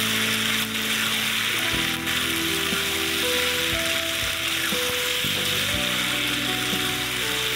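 Small papaya balls fry in a pan for papaya manchurian, a loud steady sizzle close by with some intermittent mechanical whirring and knocks underneath.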